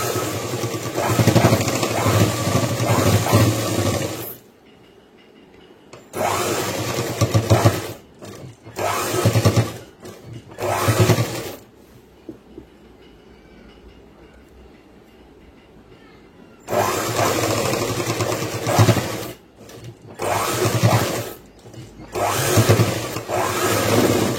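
A sewing machine stitching a school uniform pant, loud close mechanical whirring in several runs of a few seconds each, separated by short stops and one longer quiet gap.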